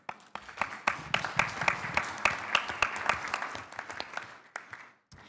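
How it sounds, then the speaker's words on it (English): Applause from an audience at the 2017 World Archery Congress, a steady spread of individual claps building then thinning out over several seconds, moderately close with no talk over it. "you deserve a big round of applause"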